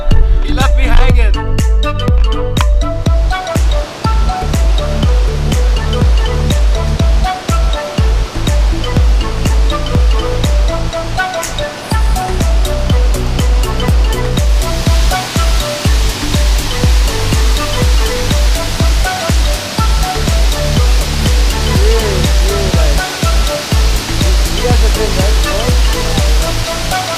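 Thunderous, unbroken roar of Asik-Asik Falls, a large waterfall in the Philippines, loud and dense for the whole stretch, with water crashing continuously close by.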